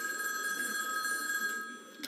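A telephone rings in a TV studio for a call-in music request, a steady electronic trilling tone that holds for about two seconds and then fades, clear and alone without talk.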